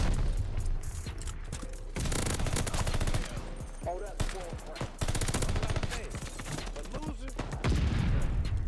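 Heavy automatic weapon fire in the shooter Call of Duty: Vanguard, loud sustained bursts layered with scattered shots, impacts and mechanical clatter, a voice briefly speaking beneath the chaos.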